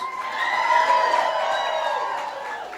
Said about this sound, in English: give Jordan a big round of applause